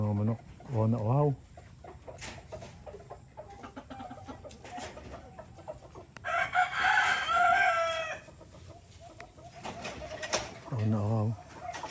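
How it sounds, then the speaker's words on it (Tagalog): Backyard chickens cluck in short bursts while a rooster crows loudly and nearby, with people talking intermittently around the calls. "Ay, mga manok."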